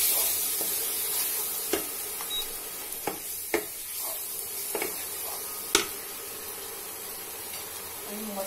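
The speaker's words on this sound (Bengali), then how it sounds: "জিরে গুঁড়ো নিয়ে এইভাবে কষে নিতে হবে।" Mutton cooks in a pan with cumin powder in a Bengali kosha preparation, a steady close sizzle and hiss broken by scattered sharp scrapes and taps of a spoon stirring the meat.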